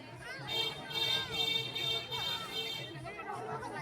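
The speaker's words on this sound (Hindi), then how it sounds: "ये देखिए दोस्तों, जगन्नाथ प्रभु के भक्तगणों का भीड़ लगा हुआ है।" Devotees crowd together at a Jagannath Rath Yatra festival procession, with a steady murmur of overlapping voices and chatter close by and all around, rising and falling in dense waves.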